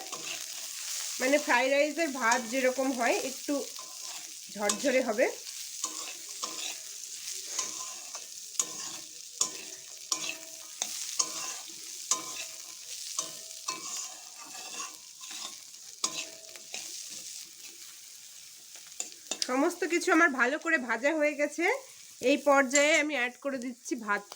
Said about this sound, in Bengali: বিনস আর গাজরটা আমার ভালো করে ভাজা হয়ে গেছে এখন আমি অ্যাড করে দিচ্ছি মটরশুঁটিটা